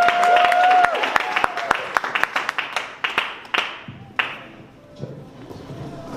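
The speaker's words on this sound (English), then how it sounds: "More applause." Applause at a university stand-up comedy show, a loud burst of crowd clapping that thins out into scattered individual claps and fades, with a voice briefly heard at the start.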